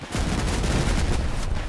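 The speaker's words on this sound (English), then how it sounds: "I'm getting shot by an autocannon type build" Autocannon fire in the vehicle combat game Crossout comes as a dense, loud burst of rapid heavy shots running continuously for under two seconds.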